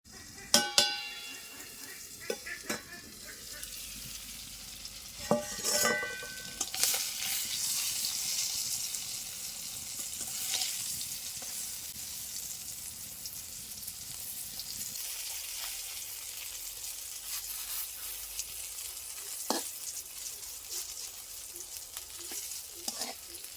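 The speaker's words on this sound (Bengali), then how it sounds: "বেগুনটা ভাজা হয়ে গেছে" Eggplant slices frying in oil in a pan, a traditional Bengali neem begun preparation, with a steady soft sizzle throughout, punctuated by a few sharper clatters and stirring scrapes near the start.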